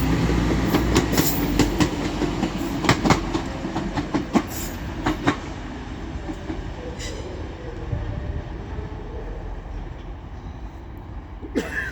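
Two coupled class 185 diesel multiple units, 185130 leading and 185123 at the rear, run through York station with a steady rumble, rhythmic wheel clatter over rail joints and occasional squeals, loud and close throughout.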